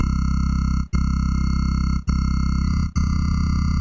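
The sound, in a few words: synth sound with hard crunch transient distortion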